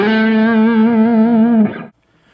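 Electric guitar solo lick, played through distortion and effects: one sustained bent note with vibrato rings loud and bright for under two seconds, then cuts off sharply, with no voice.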